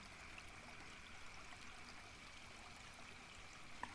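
Forest river flowing gently, a soft, steady wash of trickling water, continuous and even, heard alone.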